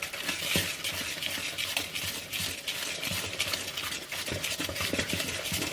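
Bakery ingredients are mixed together in a bowl, making continuous, busy scraping and stirring that is close and fairly loud, with a few sharper knocks and no talking.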